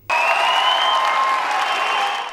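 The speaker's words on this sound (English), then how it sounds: "Sure, there's a round of applause" A crowd gives a loud round of applause for the caretaker Prime Minister, the clapping bursting in suddenly and holding dense and steady for about two seconds.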